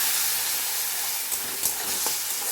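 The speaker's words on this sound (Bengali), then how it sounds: "এটা একটু ভেজে নিতে হবে এইভাবে।" Pointed gourd seed paste fries in a pan with a steady, even sizzle and hiss, fairly close and moderately quiet, with a couple of faint stirring clicks.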